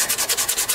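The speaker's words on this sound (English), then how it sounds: "So I'm going to sand it now." Rhythmic back-and-forth sanding of a maple mandolin neck, about seven quick, close rasping strokes in steady succession.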